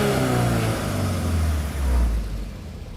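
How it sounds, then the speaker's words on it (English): A car engine at a drag race runs with a low, steady throb that swells and eases slightly, a continuous mid-level rumble heard alone with no talk over it. "Give it a rev. Give it a rev."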